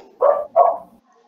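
A dog gives two quick barks in a row, close and clear, followed by quiet.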